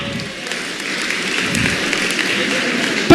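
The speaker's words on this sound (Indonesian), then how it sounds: "Yang tepuk tangan dulu dong." A class claps together in a steady wash of applause, with voices murmuring underneath and a sharp knock near the end.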